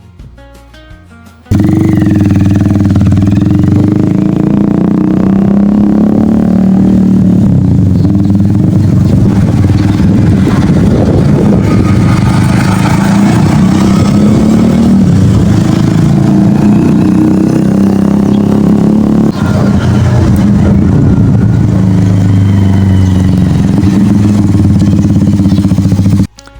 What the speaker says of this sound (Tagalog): So yun yung tunog ng ating pipe pag walang silencer.